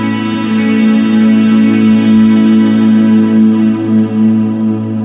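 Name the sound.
coil-split middle pickup on '72 Telecaster, clean ambient tone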